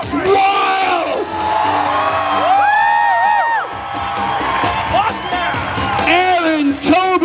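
A crowd at a renaissance festival joust cheers wildly, with loud whoops, yells and shrieks swelling and surging over several seconds while an announcer's voice carries over the noise.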